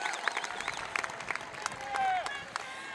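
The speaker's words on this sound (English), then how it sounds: "Graduates, let's give this dedicated, supportive team a round of applause." Applause rises from a large graduation audience at a high school ceremony for the Class of 2021, honoring the graduates' supportive families, with steady clapping and scattered cheers and a whistle mixed with voices in the crowd.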